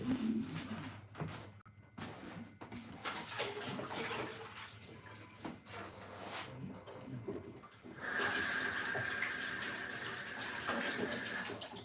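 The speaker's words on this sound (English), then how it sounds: "So let me wash my hands again." Tap water running steadily into a sink while hands are washed, a soft continuous splash that grows louder and brighter in the last few seconds, faint and close with no talk.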